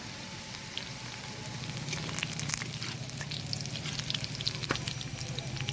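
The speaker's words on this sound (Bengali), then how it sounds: "কালো জিরার পরে আমাদের কড়াইতে চলে গেছে রসুন" Crushed garlic sizzling in a wok after black cumin seeds, with a soft, steady crackle and spatter that stays fairly quiet throughout, no voices over it.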